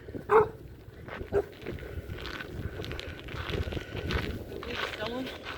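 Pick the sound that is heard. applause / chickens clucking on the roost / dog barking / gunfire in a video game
dog barking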